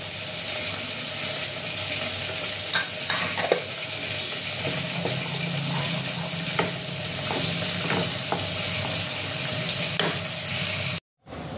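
Chicken masala with cumin and coriander powder being stir-fried in a pan for butter chicken, a steady close sizzle with scraping stirs and clinks of the spatula running throughout, cutting off abruptly near the end.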